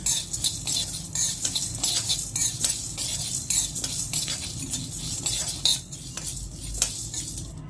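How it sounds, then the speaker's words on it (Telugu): Chana dal and urad dal dry-roasting in a pan, stirred with a metal spoon that scrapes and clinks against the pan in steady, repeated strokes, close and fairly loud, with no talking. "శనగపప్పు ఇలా వేగుతున్నప్పుడే మినపప్పు కూడా ఇలా వేసుకుంటాం."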